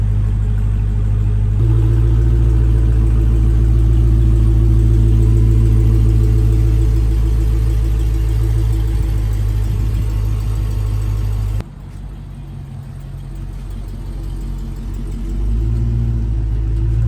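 A 2022 Dodge Charger Hellcat Redeye drives with a deep, steady engine rumble heard from inside the cabin, dropping briefly and then swelling again toward the end; no speech.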